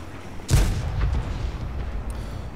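A single heavy cannon blast from an IS-6 tank booms in World of Tanks, a sharp close report at the start followed by a rumbling low tail that fades slowly.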